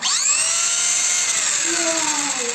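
A repaired Himoto 1/18 RC car fitted with a new motor whirs steadily at high pitch, a loud continuous electric whine with sweeping tones rising and falling as the motor spins up, heard alone.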